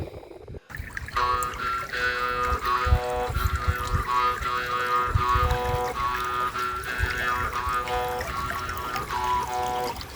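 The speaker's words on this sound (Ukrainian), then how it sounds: "Вирішив помити металошукачий заступ. От, Такий тут струмочок" A metal detecting spade being washed in a cold stream, with water pouring and splashing close by over a persistent tonal hum, and a few louder splashy bursts along the way.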